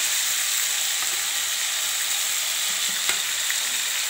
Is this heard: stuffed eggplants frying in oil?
yes